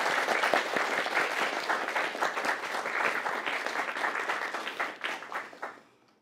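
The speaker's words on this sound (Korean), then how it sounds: "박수를 서로 부탁드리겠습니다" Audience at an academic award ceremony applauding, a dense, steady wash of many clapping hands in a hall that fades out over the final second.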